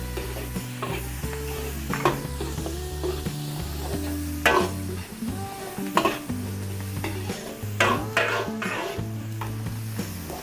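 Onion and garlic fry in a pan with a loud, steady sizzle, while a utensil stirs and scrapes against the metal in repeated clatters; a low background hum runs underneath.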